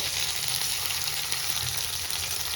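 Ginger-chili paste sautés in a hot pan as a steady, soft sizzle that runs without a break, with no voices over it.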